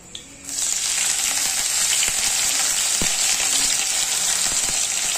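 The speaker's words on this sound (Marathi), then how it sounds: "आणि इथे आता आहे ना मिरची टाकून घेते तेलात" Green chillies hit hot oil in a pan for khichdi, bursting into a loud, steady sizzle that holds for several seconds after a brief quieter start, with a few faint clinks beneath.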